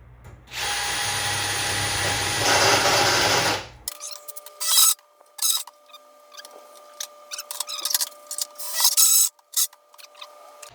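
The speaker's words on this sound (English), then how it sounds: "Now let's drill a hole through there." A steady power drill whirs loudly for about three seconds drilling a hole through a spray booth panel, then stops, followed by scattered clicks, rustles and handling noises.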